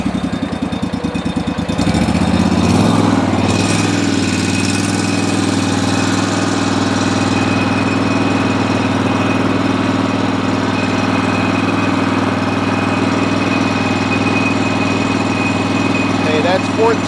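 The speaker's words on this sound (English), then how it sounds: "So let's fire it up, get the engine running at a good RPM." A Kohler engine on a ride-on floor scraper starts up in the first couple of seconds, then runs steadily at a constant RPM with a loud, even drone throughout.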